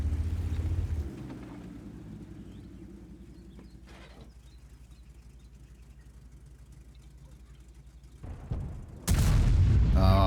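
Tank gun fire in World of Tanks, a Grille 15 tank destroyer: a booming shot opens, engine hum fills the middle, and a second loud blast bursts near the end.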